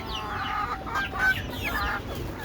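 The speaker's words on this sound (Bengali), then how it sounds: "আমি ভ্যাকসিন ছাড়া ছাদে দেশি মুরগি পালন করি" Desi chickens raised on a rooftop cluck in a series of short, close calls overlapping one another over a steady background hiss, with no talking.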